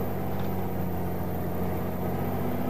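In Euro Truck Simulator 2, the engine of a Peterbilt 379 EXHD truck runs with a loud, steady, low droning rumble and an even hum, continuous throughout with no voices.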